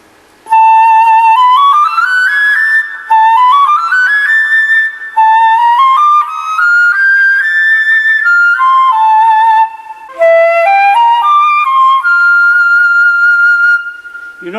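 A solo flute plays practice phrases in a masterclass on vibrato, clear rising and falling runs in four separate bursts with short pauses between, close and bright with no talking.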